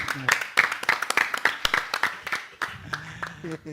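An audience claps for two winning teams at a group session, a burst of scattered, uneven hand claps with people talking over it throughout.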